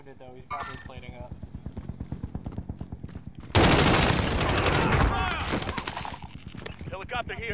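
Heavy automatic gunfire erupts in a Call of Duty Warzone match, a loud sustained burst of rapid shots after a calmer stretch of steady game noise, with players talking over the action.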